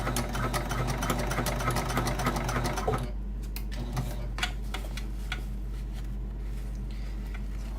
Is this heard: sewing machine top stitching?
yes